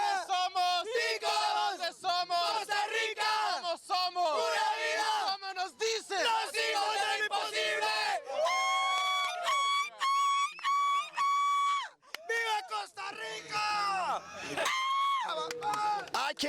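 A large crowd at an event cheers and yells loudly and continuously, a dense wall of shouting voices with rising whoops that fills the scene from start to finish.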